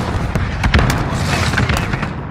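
A cruise missile launch in Call of Duty Modern Warfare: a loud, sustained roaring rush with a heavy low rumble and several sharp bursts, filling the whole moment close and dense.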